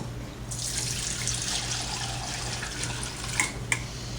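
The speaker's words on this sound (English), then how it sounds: "This is my strainer. It's just a big strainer over a measuring cup. dump everything in." Homemade citrus liqueur poured through a big strainer into a measuring cup, giving a continuous close splashing, trickling pour with a couple of brief drips or clinks near the end over a low steady hum.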